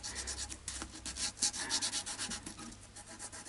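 Sanding-like rubbing against the body sides of a Fender Modern Player Telecaster during setup, a steady, soft, close scraping with rhythmic strokes and no voices.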